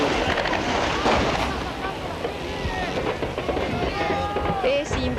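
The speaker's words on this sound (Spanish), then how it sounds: "Es impresionante la cantidad de disparos que se están efectuando en este momento. Armas largas, armas cortas y disparos de mortero." Dense, continuous gunfire from long and short weapons mixed with mortar shots striking a guard building that is catching fire, heard as a crackling, booming barrage with no pauses, under a voice.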